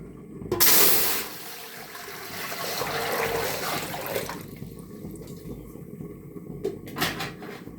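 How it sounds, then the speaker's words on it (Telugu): Water pours into a large cooking pot to boil rice for chicken biryani: a sharp clank of the pot, then a steady moderate gush of running water that tapers off, followed by another brief clatter. "ఇందులోకి మనం 4 లీటర్ల నీళ్ళు వేసుకుందాం"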